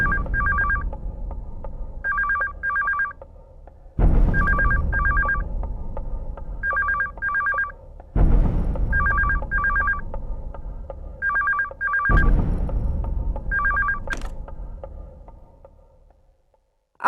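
A telephone rings in repeated electronic double bursts, pairs of bright trills recurring every couple of seconds across several cycles, loud and close with a hum beneath and no talk.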